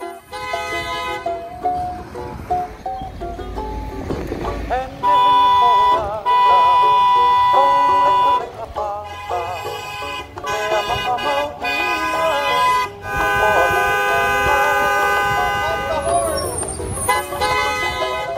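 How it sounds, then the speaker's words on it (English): Car horns honk over and over in traffic, loud, near and layered with sustained tones, with a siren-like wail at times and a voice speaking through parts of it. "there's a lot of sometimes obnoxious sounding honking in the video that's going to follow"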